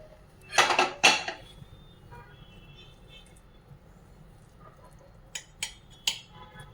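Hot fried vegetables are mixed with a spoon into soaked semolina in a bowl for a vegetable cake batter. Sharp metallic clinks and clatters come in two short bursts, with a quiet lull between them.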